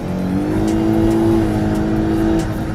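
A Lexus LS 500h hybrid's petrol engine revs up and holds a strong, loud, smooth drone up close, then eases back slightly.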